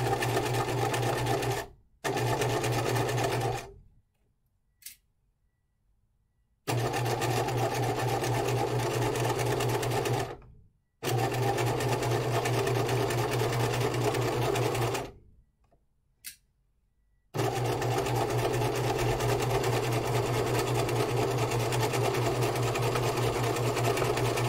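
A sewing machine tap-stitches the rolled hems of jacket pockets, running in steady bursts that start and stop abruptly with short pauses between, close and clear with no talk.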